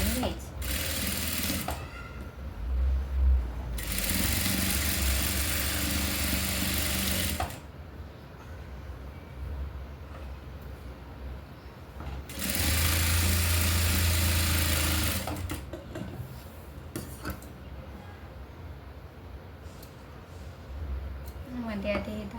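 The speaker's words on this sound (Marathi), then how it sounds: "आणि इथे शिलाई मारून घ्यायचं." A sewing machine stitches a blouse neckline reinforced with canvas paper, running in loud sustained bursts of steady mechanical whirring that alternate with quieter pauses where someone talks.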